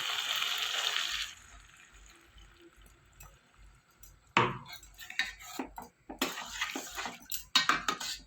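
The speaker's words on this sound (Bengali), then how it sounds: "আমি এবার মশলা জলটা দিয়ে দেবো।" Spiced water is poured into a pan of soybean meal maker curry, a steady liquid hiss for about a second, followed by quieter clinks and scraping of a utensil against the pan.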